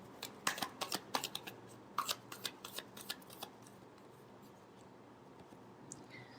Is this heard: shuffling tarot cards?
yes